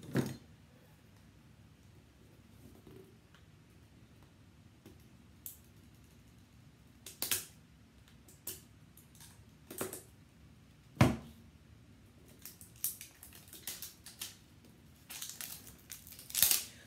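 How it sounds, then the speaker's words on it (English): Tape peels and crinkles off a plastic package of raw honeycomb in scattered short bursts, with quiet gaps between the ripping and crumpling sounds, fairly close and no talking. "Get the tape off."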